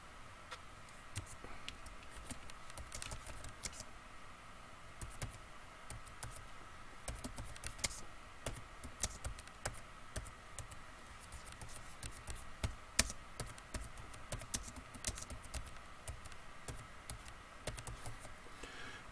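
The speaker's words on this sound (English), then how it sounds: "I'm still typing it." Quiet, irregular clicking of typing on a computer keyboard, with bursts of keystrokes and short pauses, continuing for the whole stretch.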